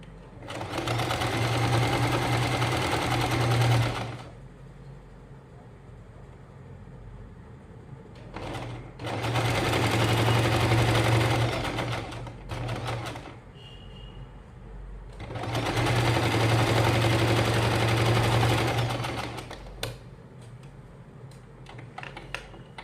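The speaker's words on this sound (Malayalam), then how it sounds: "പതുക്കനെ അടിച്ചെടുക്കുക കേട്ടോ, സ്പീഡ് കൂടാതെ പതുക്കനെ അടിച്ചെടുക്കുക." A sewing machine stitches a baby moon pillow at slow speed, running in three long whirring bursts of about four to six seconds each with quiet pauses and small handling clicks between.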